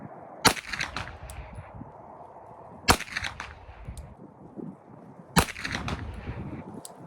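Three separate gunshots from an UZI 9mm carbine fired outdoors at a 100-yard range, each a sharp loud crack spaced a few seconds apart with brief echo trailing into quiet background.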